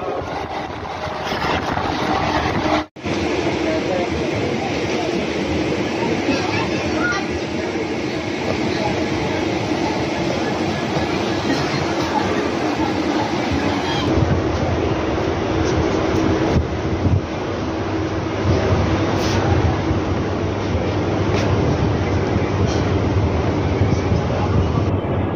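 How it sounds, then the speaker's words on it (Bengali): A MEMU passenger train from Sealdah runs into Suri station, carrying a loud continuous rumble and rattle of wheels and carriages with wind buffeting, while a voice speaks over the noise. "আমাদের ট্রেন এখন সিউড়ি স্টেশন ঢুকছে।"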